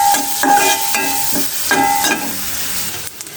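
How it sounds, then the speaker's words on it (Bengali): Dried fish (shutki) fries in a pan with a continuous sizzle, broken by several rhythmic scraping stirs of a spoon, close and fairly loud with no talking. "এখানে শুটকিটাকে সুন্দর মতো ভেজে নিয়েছি"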